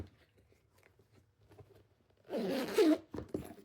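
A zipper on a sewn crossbody bag is pulled in one quick, close, crisp run after a few soft handling rustles, followed by brief small clicks.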